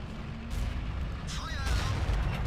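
Tank cannon fire and deep explosions boom in a World of Tanks battle, several heavy low thuds rolling over one another amid game noise, with a brief voice present.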